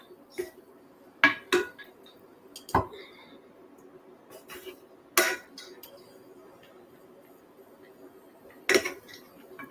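A spoon clinks and scrapes against a bowl while couscous salad is mixed with vegetables, several sharp metallic taps spread unevenly over quiet kitchen background.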